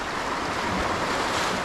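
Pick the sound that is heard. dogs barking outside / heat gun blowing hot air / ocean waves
ocean waves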